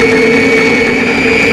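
A food processor runs steadily at high speed, mincing meat finely for a lasagna meat sauce, a loud close even whir with no breaks.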